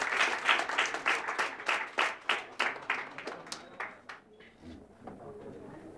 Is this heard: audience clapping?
yes